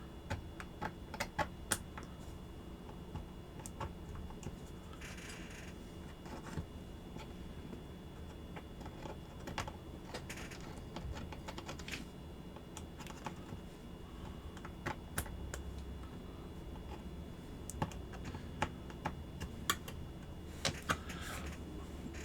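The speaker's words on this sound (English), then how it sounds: "I'm going to take my metal scribe, which is this guy here, and I'm going to" A metal scribe scratches an extractor outline for a Walther P38 / P1 pistol onto metal stock, heard as faint, irregular ticking and scraping strokes over a low steady background hum.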